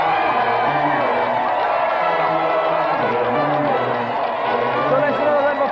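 A studio audience on the GamesMaster game show claps, cheers and whoops for the contestants, including the Golden Joystick winner, in a loud, continuous roar that holds steady from start to finish, with voices mixed into the noise.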